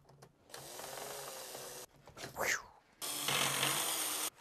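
Screws being unscrewed to take apart a pair of flight sim yokes for a C172 setup, heard as close, loud bursts of whirring, ratcheting mechanical noise with a short squeaky scrape between them.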